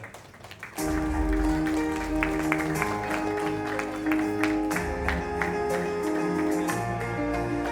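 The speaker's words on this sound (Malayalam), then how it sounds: "ഒരു വലിയ കൈയടി കൊടുക്കാം." An audience at a celebrity cricket league logo launch event breaks into sustained applause that starts abruptly, mixed with music playing in the hall.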